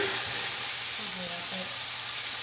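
Basted pork chops sear over high heat in a hot pan, giving a loud, continuous hiss and sizzle with spattering oil, close and steady throughout.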